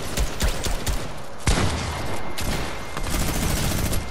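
Shotgun blasts and other gunfire in Fortnite, several sharp reports in an irregular sequence, including one loud close shot, amid a busy rattle of game combat.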